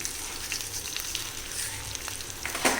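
Mustard seeds sizzle and crackle in hot oil as a tempering for coconut tomato chutney. The steady hiss is broken by small scattered pops, with one sharper burst near the end, and no one speaks.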